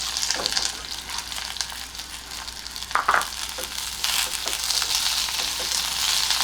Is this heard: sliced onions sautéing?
yes